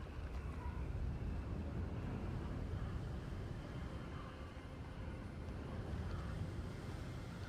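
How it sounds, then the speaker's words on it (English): Sea ambience from the Hogwarts Legacy video game: a continuous, moderately quiet wash of waves mixed with gusting wind, steady throughout with no voices. "I like the sea effect."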